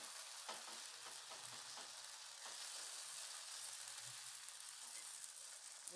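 Batter sizzling and frying on a hot tawa griddle, a steady close crackle with soft scraping as it is spread, no talking.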